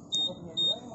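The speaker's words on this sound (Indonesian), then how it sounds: "maka alarm yang ada di motornya itu akan aktif" Security alarm on a 2021 Honda Scoopy scooter gives two short, high-pitched electronic beeps, evenly spaced, over a low background with faint voices nearby.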